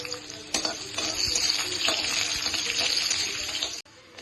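Small cut potatoes frying in a pan with dried and fresh chilies, cinnamon and cloves for a black dal and pork gravy, a loud, steady close sizzle that stops abruptly near the end.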